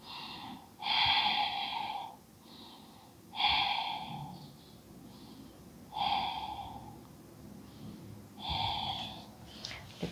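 Slow deep breathing while holding a yoga pose, four audible breath cycles with clear nasal inhales and exhales at an even pace, close and soft, with no talking.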